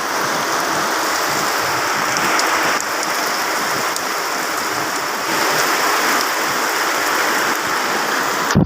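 Heavy rain pours down steadily in a dense, loud hiss that continues unbroken throughout, with no voices.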